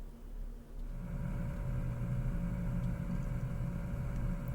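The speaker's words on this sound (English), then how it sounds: "A soft rumble emanated from the machine room below." Soft, continuous low rumble from machine-room pumps in the video game Casual Crimes, droning steadily with a slight swell, alone and fairly close.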